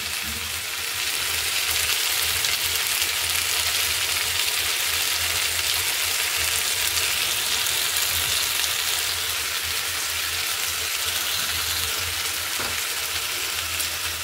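Potato, carrot and papaya frying in a pan give off a loud, dense, unbroken sizzle like heavy rain, close up and steady throughout with no talking.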